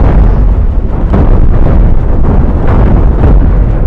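Ship weapons fire and explosions rumble without pause in the Cosmoteer space combat game, a loud, dense wash of overlapping blasts and bursts that never lets up.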